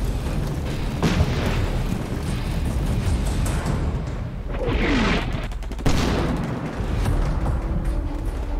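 Artillery shells landing in the video game Combat Mission Shock Force 2, a battle between American marines and Syrian defenders. Loud booms and rolling blasts repeat over a dense rumbling barrage, with no voices.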